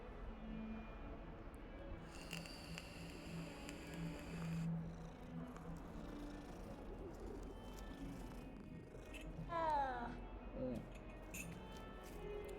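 A cat meowing and purring in the Hogwarts Legacy video game, with a low continuous purr running underneath and a clear rising meow near the end, over faint game ambience.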